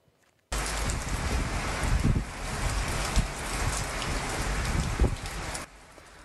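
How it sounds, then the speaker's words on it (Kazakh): Heavy rain pours down in Atyrau during a violent storm, a loud dense wash of sound that starts suddenly, holds for several seconds and then drops away to a faint hiss. "Атыраудан өсер жауынның соңы дүлей дауылға ұласып,"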